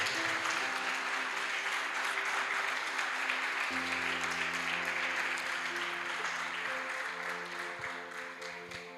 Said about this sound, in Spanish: Denle un fuerte aplauso al Rey de Reyes.